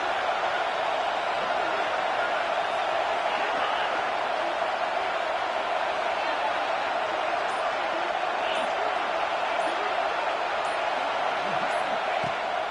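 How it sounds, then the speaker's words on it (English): A stadium crowd roars in the NCAA College Football 26 video game, a steady broad wash of cheering noise that holds without letup, loud and continuous, with a commentator talking over it. "The roar of the crowd trying to fuel this defense to keep them pinned in their own end"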